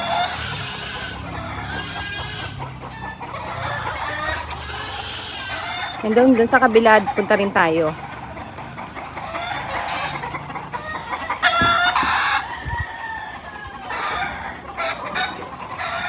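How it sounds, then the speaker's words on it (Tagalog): Fighting cocks and chickens at a Filipino farm cluck and crow, with a burst of loud squawking and flapping near the middle, while people talk throughout. "Tapos yung mga manok din po nilang panabong."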